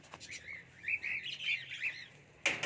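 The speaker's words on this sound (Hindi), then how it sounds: "तो दोस्तों हमने ये चिड़िया पकड़ ली है" A captured small bird chirps repeatedly near a cage, a run of bright tweets and calls close by, ending with a louder burst of chirping.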